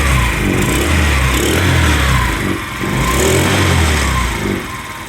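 A Chinese scrap-yard scooter's small engine runs loudly and close by, rising and falling in uneven revs with a raspy buzzing tone and brief dips between throttle blips.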